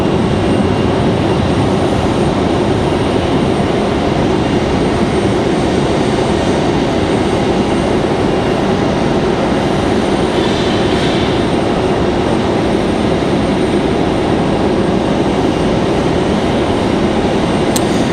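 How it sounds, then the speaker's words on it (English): Delta 737 and Air Canada airliners taxi for departure at Raleigh-Durham airport, a steady broadband jet engine roar holding at an even loud level throughout with no speech. "another Delta 737 headed out to the end of the runway for departure"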